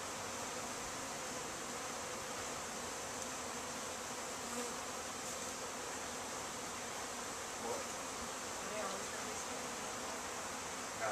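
Honey bees from newly arrived packages buzz in a steady, continuous drone that stays faint and even throughout, with no clear voices over it.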